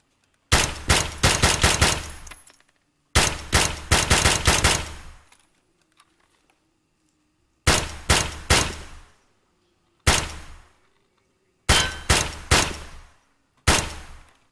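Semi-automatic SKS rifle fire in Escape from Tarkov, heard as six close, loud bursts of rapid shots separated by short silent pauses.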